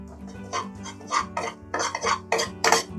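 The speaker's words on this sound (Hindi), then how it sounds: "तो अब इसको अच्छे से भून लेंगे" Gram flour being roasted in a pan for urad dal kachori, a rhythm of close, clattering scrapes and knocks as a spoon stirs against the pan, about a dozen strokes in quick succession.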